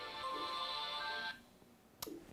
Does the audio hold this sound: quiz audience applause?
no